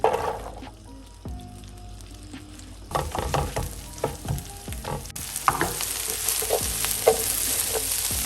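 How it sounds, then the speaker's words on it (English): Onions sizzle and fry in a pan, a steady close crackle that grows louder and denser partway through, with occasional stirring scrapes and clinks of a utensil; no one speaks. "We can cook our onions"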